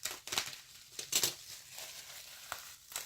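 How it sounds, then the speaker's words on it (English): Packaging from an Ulta makeup unboxing is cut open, giving close crinkling and tearing bursts in irregular clusters, loudest near the start and middle, then a few sharper crackles, with no talking. "I'm not gonna really try to open this. I'm gonna just cut it open."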